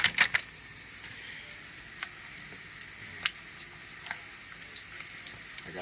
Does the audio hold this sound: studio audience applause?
no